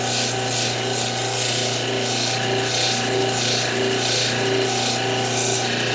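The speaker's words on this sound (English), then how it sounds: "Right now we're on the 3000 grit. And working on the dome." A cabochon stone's dome is ground on a 3000 grit wheel, giving a steady, close rubbing and rasping drone over a constant motor hum with a faint rhythmic pulse.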